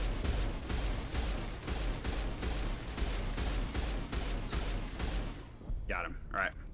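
Pistol fire in Mass Effect, a rapid rhythmic run of loud gunshots with booming game effects, ending as someone speaks briefly over quieter sound.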